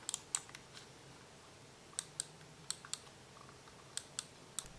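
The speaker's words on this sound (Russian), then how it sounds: "Клики не очень тихие, но звук мне нравится." Button clicks from a Defender Glory GM-514 gaming mouse, about a dozen sharp, crisp clicks at irregular intervals, fairly loud against a quiet background with no talking.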